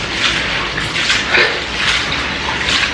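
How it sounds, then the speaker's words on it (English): Egusi melon seeds are swished and rubbed in a bowl of water, making repeated rhythmic splashing and sloshing waves, close and fairly loud, with no voices. "I like washing my egusi first."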